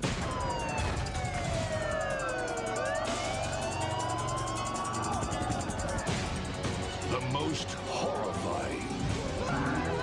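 A wailing emergency siren with rising and falling sweeps plays in a video game commercial, loud and continuous over a dense layer of music and effects.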